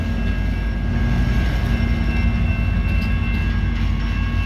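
Amtrak California San Joaquin train 702, led by an F59PHI diesel locomotive, rumbling as it pulls into the Fresno Amtrak station, with a steady loud engine drone and faint tonal squeals close by.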